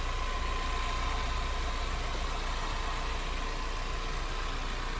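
A 2020 Ford Mustang Premium convertible with about 20,000 miles idles steadily and smoothly, a constant low engine hum with no talk over it.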